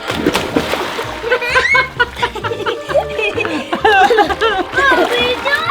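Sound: children jumping into a large backyard pool, splashing

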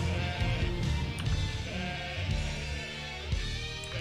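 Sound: sticky cows bleating in video game Rock of Ages 3

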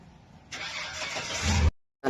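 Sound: old GMC manual-gear vehicle engine starting

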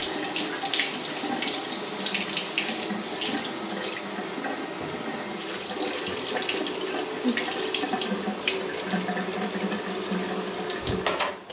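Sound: apples being washed under a running water tap

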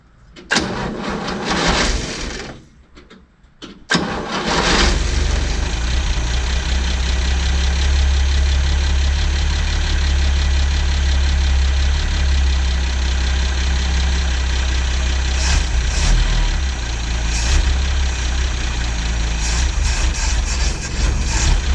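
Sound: old Ford Falcon engine idling, throttle being touched

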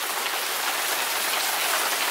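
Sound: rain falling on surfaces outdoors

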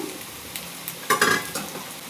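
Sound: chicken added to sizzling pan and stirred

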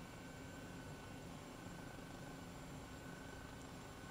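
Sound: helicopter flying low over mountains

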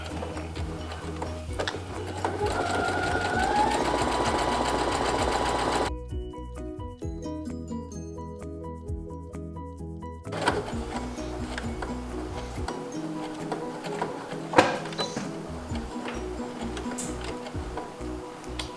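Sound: sewing machine backstitching a dress pocket

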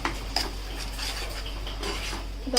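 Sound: stirring green masala paste into onions in a pan

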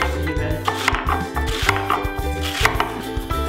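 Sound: knife finely slicing pointed cabbage

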